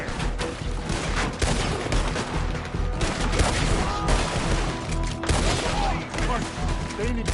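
Dense gunfire in Red Dead Redemption 2, rapid overlapping shots and booming reports crackling continuously through a chaotic firefight, with shouting voices mixed in.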